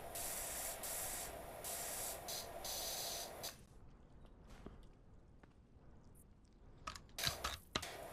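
Steady hiss of a pressure washer spraying a statue in PowerWash Simulator 2, loud for the first three and a half seconds, then cutting out and leaving quiet background with brief sharp bursts of spray near the end.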